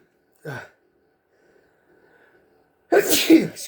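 A man sorting Magic: The Gathering cards gives one sharp, close sneeze, then a quiet stretch before a loud burst of nearby voice and movement noise.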